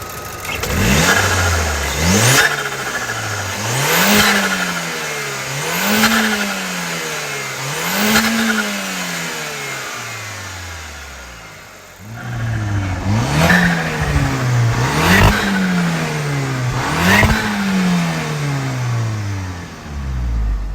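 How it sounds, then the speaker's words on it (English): A turbocharged 2.0T car engine with a spacer on its blow-off valve revs repeatedly close by, each rise followed by a sharp whooshing release, in two rhythmic bursts of several revs separated by a brief idle dip. "It also has a spacer on the blow-off valve."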